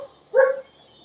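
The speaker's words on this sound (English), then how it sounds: "It's an angry dog." An angry dog outdoors at night gives a single sharp bark, moderately distant, over a faint steady background hum, with no other voices or sounds around it.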